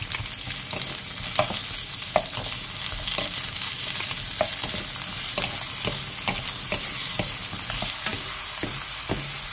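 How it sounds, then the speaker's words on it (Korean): Zucchini stir-fried on high heat with salted shrimp and garlic in an oiled pan: a constant loud sizzle broken by a spatula clacking against the pan in a brisk, fairly regular rhythm. "팬에 기름을 두른 뒤 애호박과 새우젓 3분의 1스푼, 다진 마늘 반스푼을 넣고 센 불에서 볶아주세요."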